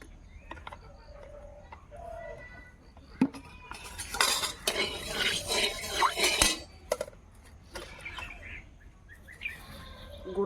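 Spices are dry-roasted in a pan, with a spatula scraping and clattering in a busy burst midway, quieter stirring before and after, and birds chirping faintly in the background.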